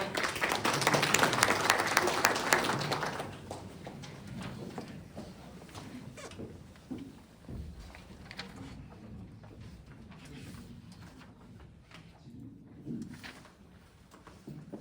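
Applause from an audience at a legislative policy forum, loudest in the first few seconds and then thinning into scattered claps with some murmuring voices.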